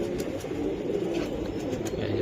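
Giribaj pigeons, silver with red markings, coo softly in a low continuous murmur, with faint brief chirps above it, close and steady.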